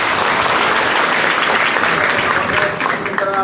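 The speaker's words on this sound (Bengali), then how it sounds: "জোরে হাততালি" At a Bangladesh police recruitment gathering, a crowd gives loud, continuous clapping up close, a thick steady roar of hands, with a faint voice or two emerging near the end.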